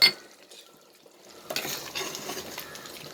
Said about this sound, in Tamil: அந்த கறி வேகிறதுக்காக தண்ணி ஊற்றுறேன்